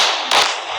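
A sudden sharp bang, like a firecracker or explosion, bursts out near the third of a second over a continuous hiss of noise, then fades back into the steady wash.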